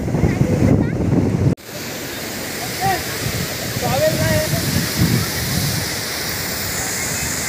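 A full waterfall pours at a dam in a steady, close rushing roar, with a brief dropout early on and faint voices and sounds mixed in.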